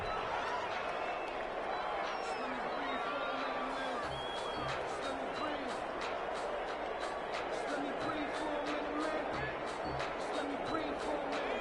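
Stadium crowd roar from a PS4 American football video game, a steady dense wash of distant cheering and murmur held at even level throughout, with faint tonal music or horn lines surfacing underneath.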